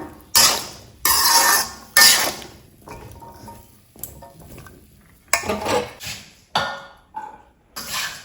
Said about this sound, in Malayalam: ഇനി നമുക്ക് ഇത് വേറൊരു പാത്രത്തിലോട്ട് മാറ്റാം